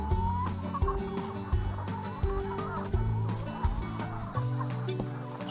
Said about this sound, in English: when you get this close, they even smell like chickens